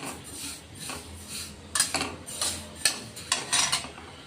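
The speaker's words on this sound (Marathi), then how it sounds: "तीळ आपण आता भाजून घेऊ चांगले।" Sesame seeds roasting in a pan are stirred with a utensil, making irregular metallic clinks and scrapes that come in short, close bursts over a quiet background.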